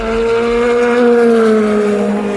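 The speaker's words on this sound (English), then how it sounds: "Here's some audio of just the cars as they come through the S's" A race car screams past on a circuit through the S-bends before Tertre Rouge at Le Mans, one loud, close, sustained engine note that slowly drops in pitch as it goes by.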